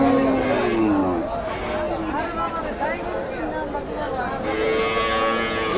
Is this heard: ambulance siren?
no